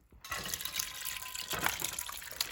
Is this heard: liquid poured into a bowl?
yes